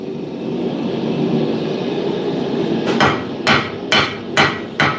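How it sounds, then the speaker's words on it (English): A steel cross pein hammer head with a 1084 steel face is struck with a hammer to upset its end, five loud ringing blows in a fairly even rhythm over the steady roar of a forge in a smithing shop. "Right now I'm not welding. I'm upsetting the end a little bit"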